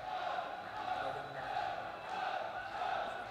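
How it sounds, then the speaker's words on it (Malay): Spectators in a stadium cheer at an RMP Melaka versus RMP Negeri Sembilan football semi-final. The roar is a steady, distant wash with a voice talking over it. "bersorak kuat penonton-penonton di stadium"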